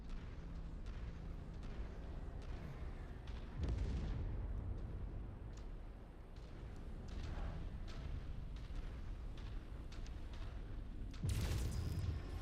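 Heavy mech weapons fire in a video game battle, booming blasts and cannon-like bursts rolling out in irregular volleys over a constant rumbling combat din, with a large burst near the end.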